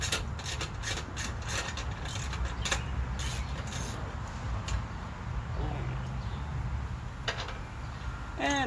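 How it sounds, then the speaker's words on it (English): A 1/4 inch hand ratchet with a 10 mm socket clicks in rapid bursts of pawl ticks, close and fairly loud, while working bolts on a John Deere 318 lawn tractor during a fuel pump job. "I got a 10 mil on the 1/4 inch hand ratchet"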